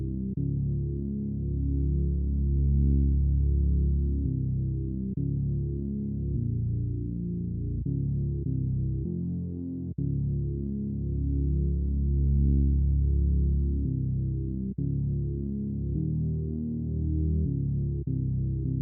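A warm, bass-heavy synth chord progression fills the low end of a beat. Long sustained chords change every few seconds, with no voices.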